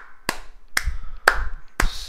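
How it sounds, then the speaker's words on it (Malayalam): Four sharp hand claps, evenly spaced about half a second apart, loud and close, each one crisp with a short ringing tail. "Don't slap, just clap."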